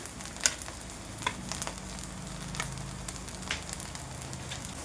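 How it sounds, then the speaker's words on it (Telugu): Chicken with spices stir-fried on a high flame, a steady low sizzle with faint scraping and clinks of stirring, fairly quiet and without talk. "ఇదంతా హై ఫ్లేమ్లోనే జరగాలండి, గుర్తుంచుకోండి. హై ఫ్లేమ్లోనే తిప్పుతూ ఉండాలి."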